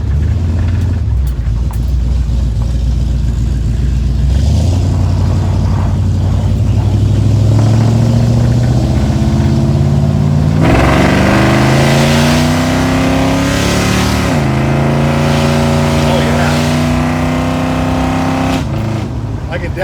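A car with a Holley four-barrel carburetor accelerating along a road near a house, the engine note climbing through gears in loud, close revving sweeps, with a sharp surge midway as the secondaries open.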